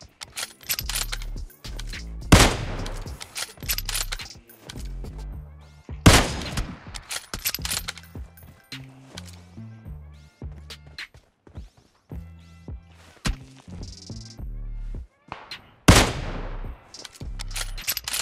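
Gunfire in PUBG Mobile, repeated sharp loud shots and short bursts spaced irregularly, with metallic clinks between them and quieter gaps.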